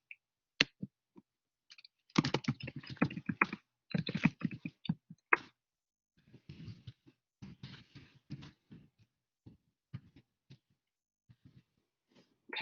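Computer keyboard typing in irregular bursts of quick, close clicks, with a dense flurry early on and sparser keystrokes trailing off, the phrase United States Department of Agriculture being entered into a web citation form.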